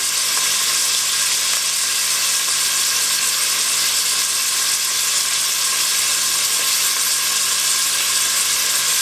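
Onion frying in a pan: a steady, loud, even hiss and crackle of sizzling that holds unbroken throughout with no voices.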